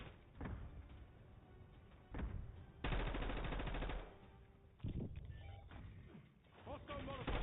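Automatic weapon fire in Halo: The Master Chief Collection multiplayer comes in several loud, close bursts, one sustained rattling stream lasting about a second, mixed with other game sounds.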